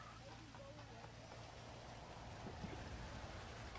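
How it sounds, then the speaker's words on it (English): Steady rain from the FiveM multiplayer mod of GTA V, a continuous hiss spread evenly and softly throughout, with faint speech-like murmur beneath but no clear words. "It is raining."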